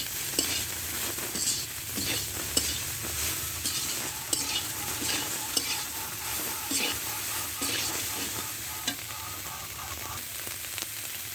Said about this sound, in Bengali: লবণ দিয়ে হালকা আছে সয়াবিনগুলো ভেজে নিতে হবে।